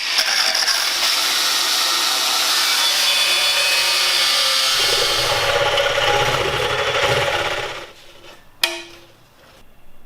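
Power tool cutting a large hole into the front of a metal engine sump during backyard fabrication, a steady loud grinding whine for most of the time that stops near the end, then a sharp clank.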